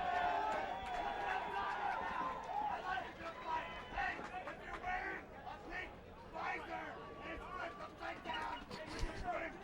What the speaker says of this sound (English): Yeah, the crowd is definitely getting into this match.